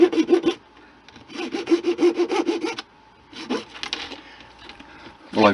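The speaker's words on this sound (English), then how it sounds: "I need to finish it up with the edge of a rectangular file" Rectangular file worked along the edge of a part for a model railway bridge, giving bursts of rapid rasping strokes in three runs separated by short pauses, close and fairly loud.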